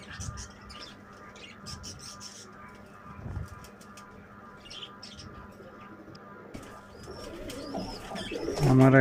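Pigeon chicks being hand-fed give soft cooing and faint chirps over a steady indoor hum, with a louder burst of fluttering or squabbling calls close by near the end.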